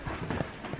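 Horses' hooves clip-clop on a hard surface, a few quick muffled steps at moderate distance, faint and brief with no talk.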